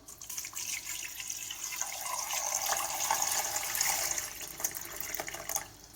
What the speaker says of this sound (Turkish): Şöyle üzerinde geçecek kadar biraz su ekliyorum.